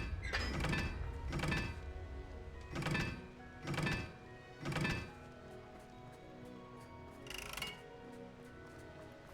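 Blasting-curse impacts in a wizard action video game, Hogwarts Legacy: a run of five heavy, booming thumps about one second apart, then a quieter tail with one last softer hit, with no voices.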